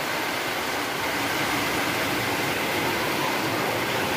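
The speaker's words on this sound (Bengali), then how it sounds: "ভীষণ জোরে বৃষ্টি হচ্ছে।" A dense, steady roar of heavy rain, broadband and unbroken, loud and close with no pauses.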